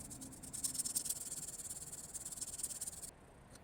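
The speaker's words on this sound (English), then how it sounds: "After the rough filing, I'm cleaning up the surface with sandpaper." Sandpaper rubbing over a small forged copper lanyard bead after rough filing, a soft, close scratchy rasp in quick even strokes, quiet and alone, stopping abruptly near the end.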